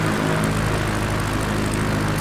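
A propeller airplane drones steadily as it descends through clouds in Flight Simulator, a loud, unbroken engine hum with a low whirring throb and no talk.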